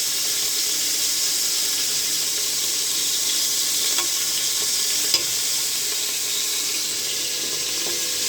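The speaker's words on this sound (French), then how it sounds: "on retourne un petit peu les morceaux" Pieces of filet mignon sizzle and fry in a pan while being turned, a steady hissing crackle with a few faint clinks, no voices over it.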